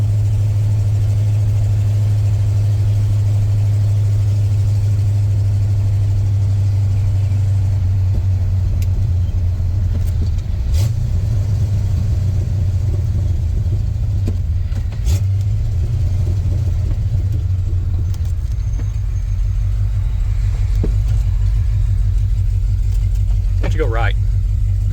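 A 1986 Ford F150 with a 351W V8, NP435 manual, long-tube headers, X-pipe and glass pack mufflers drives along, its deep engine rumble loud and steady throughout, with brief clicks and knocks over it.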